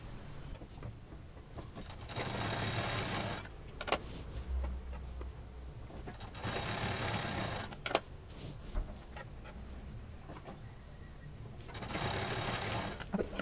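A sewing machine joins patchwork pieces in three short bursts of steady whirring, separated by quiet pauses filled with handling clicks and fabric shuffling, close by.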